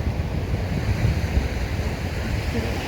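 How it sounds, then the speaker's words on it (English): Ocean waves wash gently against a piece of wood on the shore at moonrise, a steady close surf wash mixed with low wind rumble across the whole stretch. "The waves are just coming up and gently pushing against this bit of wood."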